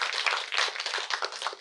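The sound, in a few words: audience clapping to welcome the speaker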